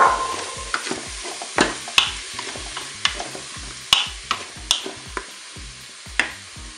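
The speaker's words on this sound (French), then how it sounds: "l'huile est assez chaude. Je vais maintenant rajouter les oignons." Onions hit hot oil and crackle in a pan, a steady sizzle punctuated by repeated sharp spoon scrapes and knocks against the pan at a loose, irregular rhythm, close and fairly loud.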